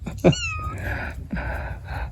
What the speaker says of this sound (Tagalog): Keno kayang pusa to?